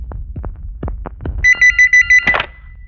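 A telephone rings in a Telugu film scene with short, loud, repeated electronic bursts of even rhythm, following a few soft thumps, with no talking.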